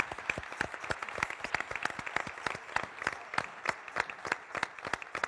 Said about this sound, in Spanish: un fuerte aplauso para todas estas personas